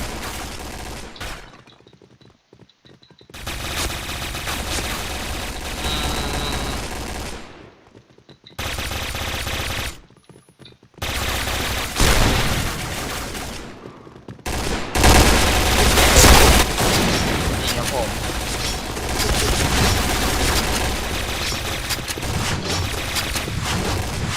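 Gunfire from the Pindad SS2 V5 rifle in the shooter game Point Blank, dense bursts of rapid automatic fire broken by short silent gaps, then a longer loud sustained stretch of shooting.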